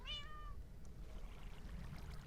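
A Minecraft cat gives a single clear meow at the start, followed by a faint, low watery background wash with no talking.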